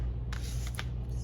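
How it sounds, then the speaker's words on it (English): A tarot card deck being cut by hand, a couple of quick soft card slaps and riffles over a low steady hum, no talk. "Cut the deck."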